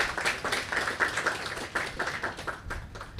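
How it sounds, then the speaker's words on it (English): A small audience at the unveiling of a plaque honoring Sir Walter Clement Noel gives a short round of uneven, closely miked clapping that stays fairly loud throughout. "So give him another round of applause."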